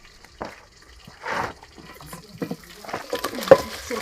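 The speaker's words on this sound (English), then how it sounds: "had already washed them, but let me rinse again" Tap water splashes over pieces of wild francolin bird meat being rinsed, coming in short close bursts of running and dripping water with pauses between them.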